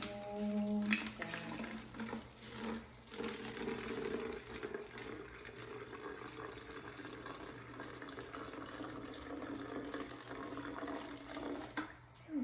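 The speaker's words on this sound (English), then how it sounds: "I'm going to fill it just a little under halfway with tap water" Tap water runs steadily into an empty bottle being filled to just under halfway, a soft continuous rushing and trickling close by, with a brief clink at the start and a faint voice in the background.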